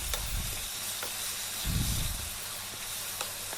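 Onion-tomato masala for egg gravy sautéing in a pan, a steady broadband sizzle with a few soft stirring scrapes and a brief thicker burst of frying noise midway; no one speaks.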